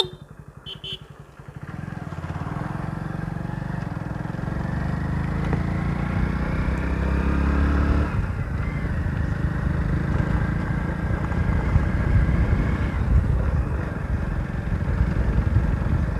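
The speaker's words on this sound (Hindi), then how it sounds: "बाइक जो है चलने में काफ़ी स्मूथ लग रही है" A Hero Splendor Plus Xtec motorcycle rides along a road, its engine a steady low thrum with wind rush, starting up after a brief pause and holding an even pace throughout.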